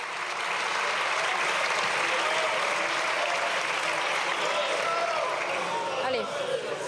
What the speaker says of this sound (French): Très applaudi, les bancs Renaissance debout à l'Assemblée avant la prise de parole de Gérald